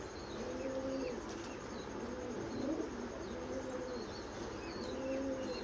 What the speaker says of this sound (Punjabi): ਆ 골ਡਨ ਕਬੂਤਰ ਆ